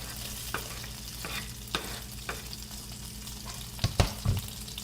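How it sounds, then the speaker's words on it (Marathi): Chopped onion and tomato frying in a pan for a brinjal and shrimp dish, with a steady close sizzle broken by a few scrapes of stirring and a louder clatter near the end. "हा जो तुम्ही कांदा कापलाय, टॅमॅटो कापला आहे तो टाकायचा"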